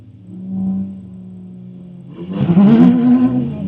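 An autocross race car at a ProSolo event sits at a steady low idle, then rises into a loud, rough acceleration that swells and stays strong through the end.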